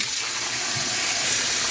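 Tap water runs in a steady, fairly loud gush while yarn is washed with clear dish soap in a sink, with no talking over it.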